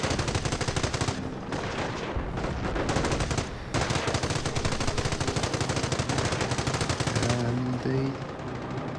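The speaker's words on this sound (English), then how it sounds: "Machine gun against the Knight's Cross." Sustained machine gun fire in Company of Heroes Mobile, a World War II strategy game, aimed at a Knight's Cross unit: dense, loud, rapid bursts that run almost without pause, with brief gaps, over other battle noise.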